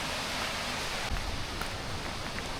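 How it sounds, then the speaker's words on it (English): Pistyll Rhaeadr waterfall pouring down, a steady broadband roar of crashing water heard from a distance, constant and moderately faint with no talk. "I can hear the sound of the waves crashing down."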